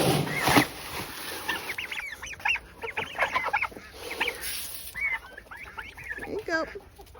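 A flock of turkeys and chickens clucks and chatters up close while being fed on a farm, in short, overlapping bursts, with a couple of sharp rustles or thumps.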